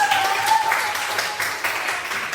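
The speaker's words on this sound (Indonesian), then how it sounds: "Tepuk tangan dulu" Group applause in an Islamic school or class session, steady sustained clapping throughout with a faint whistle-like tone near the start.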